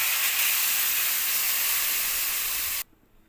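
Water poured into a hot pan of tilapia fish curry with papaya and potato gives a loud, steady steaming hiss that runs for nearly three seconds, then cuts off abruptly into near silence.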